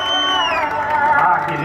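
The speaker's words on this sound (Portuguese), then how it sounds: "Pode bater palmas aí, pessoal." A crowd at a husband's surprise birthday celebration cheers and whoops loudly and continuously, with raised voices shouting over one another; individual hand claps are not distinct.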